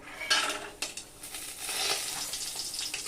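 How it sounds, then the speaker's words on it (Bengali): Lentil dumplings sizzle and fry in hot oil in a wok, a steady close crackle with a few louder spits and faint scraping of utensils, no voices. "এই তেলে আমি বড়িগুলোকে ভেজে নিব"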